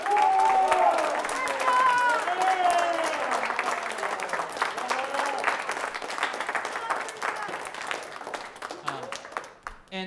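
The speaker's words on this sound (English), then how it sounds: "If we can give her a round of applause as well." A high school band Christmas concert audience gives sustained applause, dense clapping that starts loud and slowly fades, with a voice talking over it early on.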